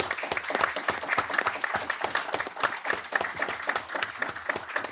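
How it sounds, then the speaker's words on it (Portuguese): A seated audience at a panel on social media regulation claps for João and the others on stage, a dense, even round of applause that stays steady for about five seconds. "eu queria pedir uma salva de palmas para o João e para todos aqui"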